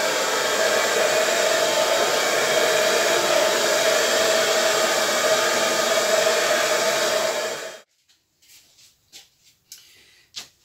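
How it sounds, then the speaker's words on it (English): A hair dryer blows acrylic paint on a large canvas loudly and steadily for about eight seconds, then cuts off, leaving a few faint knocks and rustles. "I'm going to use my hairdryer to cover, to blow this out and cover it."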